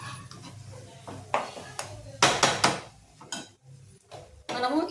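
Sesame and chilli chutney mixture being stirred in a pan for gooseberry chutney, with scattered scraping and clinking of a utensil against the pan in irregular bursts, close by, with a faint low hum beneath.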